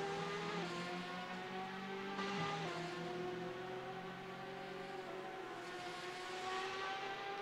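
Porsche 911 RSR race car in a sim racing game at Spa-Francorchamps, a continuous engine drone with a shifting tone and a gear change partway through, heard alone at steady volume.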